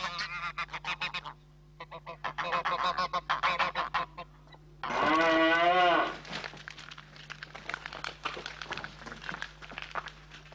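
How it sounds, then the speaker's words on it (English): Geese honking on a farm in rural Fermanagh, Ireland, a flock giving rapid repeated honks in bursts, close and loud, with a long cow-like moo in the middle and more honking after. "Fine flocks of geese and a pet of a gander feeding out of a pot are rare sights"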